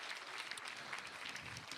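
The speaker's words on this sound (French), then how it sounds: "Vous pouvez l'applaudir" Faint, distant applause from the audience at a children's municipal council session in Belfort, a brief steady patter of clapping.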